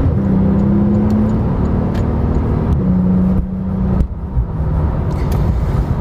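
A 2017 Porsche 911 Turbo S Exclusive Series accelerating hard to overtake, its engine roar loud and close with a rising drone, a brief gearshift dip midway, then pulling strongly again under steady road noise.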